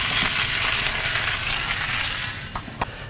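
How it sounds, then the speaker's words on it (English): Burgers sear on a hot Kamado Joe grill, giving a loud, steady sizzle throughout, then a couple of short sharp clicks or scrapes near the end as the sizzle eases. "We're going to flip these guys over. We'll get a little sear on the other side."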